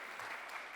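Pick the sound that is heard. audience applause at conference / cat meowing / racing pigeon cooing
audience applause at conference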